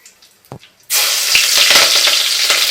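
Cumin, asafoetida and chili hit hot oil and burst into a loud, steady sizzle that starts abruptly after a few faint taps and keeps crackling close up.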